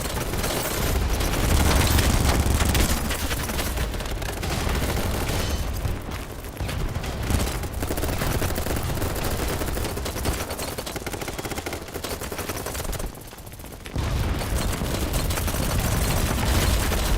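Sustained, heavy automatic gunfire and booming blasts from a blocky online shooter game, loud and nearly continuous with brief lulls, almost no talking.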